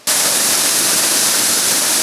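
The Lazny waterfall on a tributary of the Stryi river roars loudly, starting abruptly and then holding as a dense, steady hiss of rushing water without any voices.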